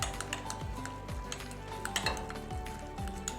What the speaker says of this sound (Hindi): कुटी हुई मिर्च, केचप, मायोनीज, ये सारी चीजें में डालकर इसको हम अच्छी तरह से मिक्स कर लेंगे।